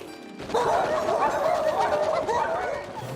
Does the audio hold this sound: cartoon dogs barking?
yes